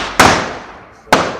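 Two sharp, loud bangs from rocket firecrackers crack out about a second apart. Each blast trails off into a fading rumble.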